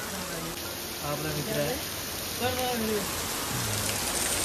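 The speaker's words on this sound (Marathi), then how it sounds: "बघूया पाऊस थांबण्याची वाट बघतोय." Steady rain pours down in a village in Konkan, a continuous close hiss throughout, while people talk over it.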